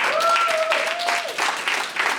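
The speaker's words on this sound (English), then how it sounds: "All right, give him a round of applause," A crowd at a comedy hypnosis stage show applauds a volunteer: a busy wash of clapping under a brief, steady whistle-like tone and some mixed crowd noise.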